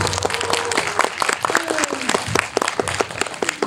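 Audience applause in a Lotte Cinema World Tower screening hall, with steady dense clapping from a seated crowd at a concert-film stage greeting, a few voices over it.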